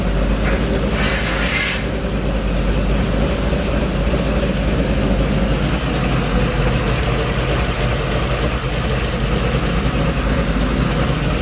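A 1957 Chevy engine idles steadily through quiet mufflers, giving a constant, close, low rumble with an even hum throughout and no talking.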